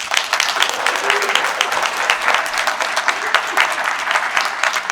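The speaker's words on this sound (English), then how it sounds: "Big round of applause." A big round of applause fills a small business awards reception, many hands clapping in a loud, sustained patter with crisp individual claps standing out, unbroken for about five seconds.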